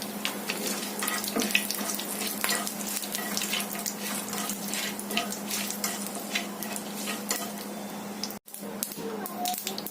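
Curry leaves, a pinch of asafoetida and cumin sizzle in a pan of hot oil for a fresh cashew curry, a steady hiss broken by light scraping stirs, with a brief pause near the end.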